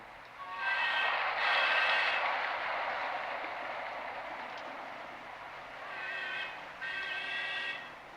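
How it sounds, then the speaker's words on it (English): A model train runs along its track with a rolling mechanical hum, while short high whistle toots sound near the start and again near the end, moderately close and without talk. "Charlie, what's that whistling sound? That's a model train, Kelly"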